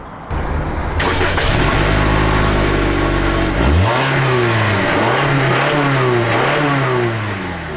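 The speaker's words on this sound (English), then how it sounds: "we have 2 single exhausts. Let's give them a listen." A 2019 Toyota RAV4 Limited with two single exhausts idles loud and close with a deep rumble, then revs up sharply several times in succession, the exhaust note rising and falling.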